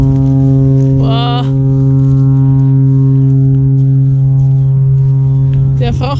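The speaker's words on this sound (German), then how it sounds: "Der Frachter da draußen auf dem Meer, der dröhnt sich einen runter da mit seinem Nebelhorn." Foghorn of a cargo ship out at sea off the Scottish coast, a deep, loud, sustained drone holding steady throughout, with brief higher tonal sounds near the start and end.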